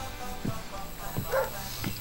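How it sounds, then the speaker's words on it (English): In the video game Scribblenauts, a cartoon dog gives three short yappy barks spaced evenly apart, quiet and close, over a faint game background with no talking. "I need to teach my dog a trick."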